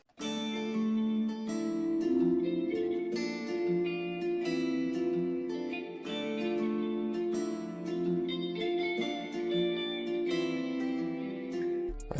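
Guitar loop beat built in FL Studio, with a catchy top melody over it. The plucked guitar pattern repeats steadily and sits loud and full for about twelve seconds, with no voices.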